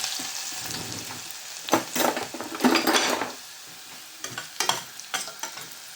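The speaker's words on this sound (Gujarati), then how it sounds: "લસણ ને આદા આદુ સોપ કરીને રાખ્યું છે એ નાખી દેવાનું છે ચાલો બધું મિક્સ કરી દઉં" Chopped garlic and ginger being stirred into a frying moong curry, with a continuous sizzle of hot oil broken by several bursts of louder spoon-against-pan scraping and clinks close by.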